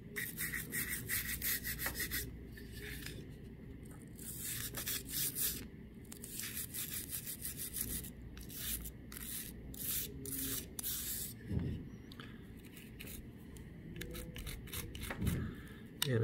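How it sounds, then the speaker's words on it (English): A brush scrubs over a frame with steady, close, dry rubbing strokes, joined by scattered scraping and rustling handling noises throughout. "So I'm just going to give it a little scrub."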